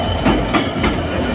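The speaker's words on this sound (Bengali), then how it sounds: "তারপর দীর্ঘ সময় অপেক্ষা করার পর ট্রেনটি চলে আসছে।" The Nilsagar Express train rolls into a station with a steady rumble and faint rhythmic clatter of wheels, close and continuous, with no talking.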